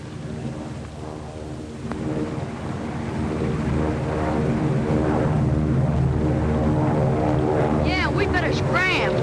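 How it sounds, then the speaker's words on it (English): A propeller airplane comes in to land at a 1930s airfield, its steady engine drone building in loudness over the clip, with music and scattered voices layered on top. "keeping the field clear for planes to land"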